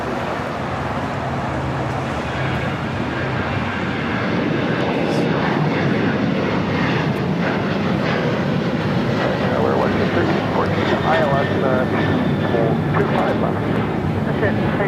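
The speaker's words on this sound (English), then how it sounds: "This is United Airlines 2237 taking off to Houston Intercontinental on a 737-900ER." A United Airlines Boeing 737-900ER takes off at LAX, its jet engines roaring in a broad continuous rumble that holds loud and steady throughout, with a voice talking over it.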